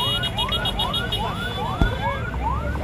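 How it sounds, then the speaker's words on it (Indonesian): An ambulance siren sweeps up and down in a steady, repeating cycle, loud and fairly close, arriving at a crash where an SUV hit a power pole, with a low rumble of traffic beneath and one brief thump. "ini akhirnya ambulan sudah datang ya"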